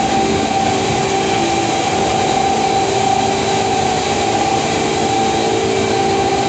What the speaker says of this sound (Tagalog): Malaking drone yan, malaking drone.